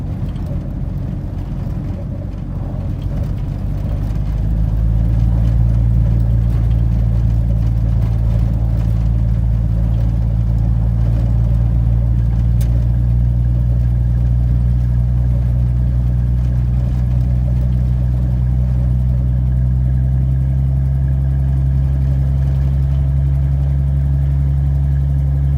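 A 1982 Ford F-150 pickup idles after a cold start, a steady low rumble that settles and stays loud and close, with no one speaking.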